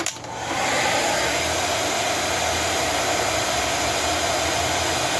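A heat gun blasts hot air onto a model engine crankcase, a loud, steady rushing roar that kicks on within the first half second and holds unbroken to the end.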